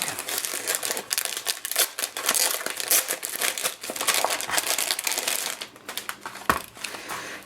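A swap package wrapped in decorative paper being unwrapped by hand, with dense crinkling and crumpling bursts, sharp tearing snaps and rustles coming in quick irregular succession up close.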